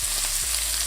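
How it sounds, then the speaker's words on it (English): Sirloin steak searing in a hot oiled pan, a steady loud sizzle of fat rendering with a brief low knock near the start. "Now with your steak, first of all we're going to render the fat, which you can see on the sirloin steak."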